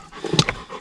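Dog panting close by beside a car seat in a Lexus IS200 drift car, a quick burst of breathy huffs with a small whimpering catch, alone and near.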